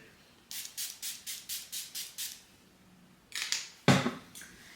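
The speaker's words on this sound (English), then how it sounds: "So you shake it up, then you spray." A bottle rattles in eight quick, even shakes, then a pause followed by a couple of sharp hissing sprays up close.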